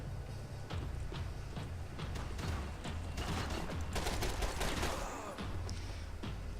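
Steady, dense gunfire from the video game Max Payne 3, with rapid shots packed together over a continuous low rumble, loud and close and heaviest toward the middle of the stretch.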